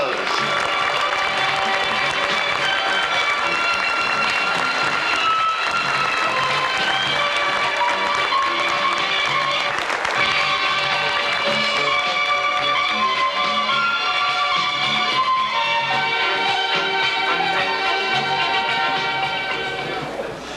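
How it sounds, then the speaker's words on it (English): Audience applause fills a hall at a magic convention stage show, sustained and fairly loud throughout, blended with bright tonal music and a voice that carries over the clapping. "Give them a big round of applause."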